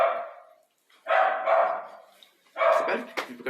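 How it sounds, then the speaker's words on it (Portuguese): A dog barks in several loud, close bursts, pausing briefly between them and then barking again in a rapid cluster. "Você pode pedir pro cachorro parar?"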